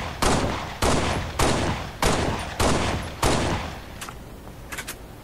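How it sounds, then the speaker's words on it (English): Semi-automatic .45 caliber pistol firing in a video game, six evenly spaced loud shots about half a second apart with short decaying tails, followed by a few faint clicks. "got a 45, fires a 45 caliber round. It's semi-automatic"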